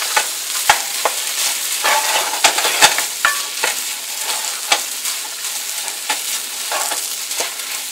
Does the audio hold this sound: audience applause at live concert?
no